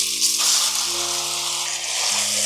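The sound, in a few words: beef frying in a pan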